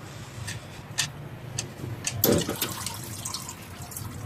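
Engine oil drains from a 2016 Hyundai Elantra as a steady low trickle of pouring liquid with scattered drips and splashes, close by.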